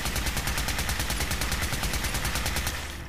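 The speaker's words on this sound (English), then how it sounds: "A regular radium rifle wouldn't have the bullets exploding yet, but because it has the exploding effect," Kiloton Radium Rifle in Fallout 4 firing exploding bullets in rapid automatic bursts: loud, relentless evenly spaced shots with cracking blasts running together, fading slightly at the end.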